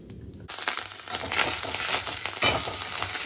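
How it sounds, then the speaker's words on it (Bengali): Ginger and whole cumin seeds frying in a small amount of oil in a pan, a steady crackling sizzle that jumps louder after a moment, with light scraping and stirring, close up and without voices. "আদাও মোটামুটি ভাজা হয়ে গেছে, তেল তো খুবই সামান্য"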